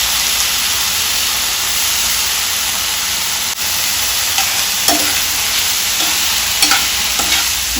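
Broccoli fries in a pan while being stirred, making a steady, loud sizzle and hiss throughout, with a few faint scraping stirs near the end and no talking.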